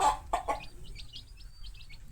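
A hen clucks near her newly hatched chicks, three low clucks close by followed by a run of faint, high chick peeps.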